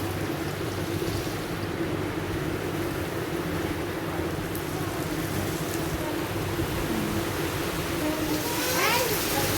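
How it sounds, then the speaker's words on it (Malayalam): Heavy rain pours steadily onto an open yard, a continuous broadband hiss that holds even throughout, with a person talking over it. "നല്ല മഴയുണ്ട് കേട്ടോ മുറ്റത്ത്."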